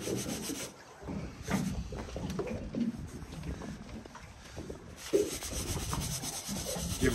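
Pieces of snapper fish are shaken with breadcrumbs in a container, making a soft, continuous rustling and rubbing with scattered brief knocks, quiet and close.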